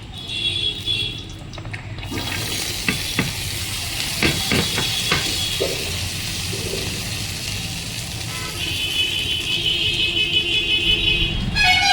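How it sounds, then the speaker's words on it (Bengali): Bori lentil dumplings frying in a little oil in a wok, giving a steady close sizzle with sharp clinks and scrapes of a spatula early on and a rising hiss toward the end. "অল্প পরিমাণ একটু তেল দিয়ে আমি এখন বড়িটা ভেজে নেব"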